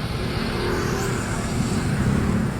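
Busy street traffic in Bulacan, recorded from a motorcycle on New Year's Eve, gives a dense, constant roar of nearby engines and road noise with no pauses.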